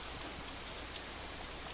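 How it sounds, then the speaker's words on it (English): Heavy rain pouring down in the visual novel game Katawa Shoujo, a dense, even hiss of countless drops with no pauses or voices, steady and loud throughout. "this rain it feels like it's raining in my house right now"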